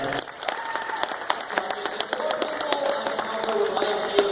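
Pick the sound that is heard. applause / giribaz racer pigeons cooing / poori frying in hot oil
applause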